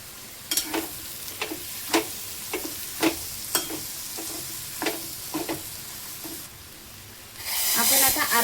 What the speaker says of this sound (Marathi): दोन मिनिटं आपल्याला वांगी आणि बटाटे परतून घ्यायचे तेलामध्ये